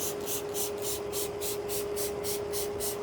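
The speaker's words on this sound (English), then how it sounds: "Now that the tire is dry, we're gonna spray our half over here." A rapid series of about a dozen pumped spray bursts of tire cleaner onto a dry tire, hissing evenly and close up, with no talking.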